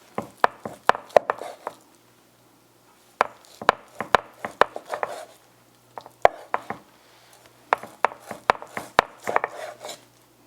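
A knife chops beef into thin strips for homemade jerky on a board, giving bursts of quick, sharp close-up cuts in three clusters with short pauses between, no talking.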